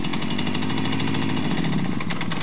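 A Romet motorcycle engine held at a steady, close, buzzing idle-to-low rev as a novice rider pulls away in first gear, with a slight rise in pitch near the end.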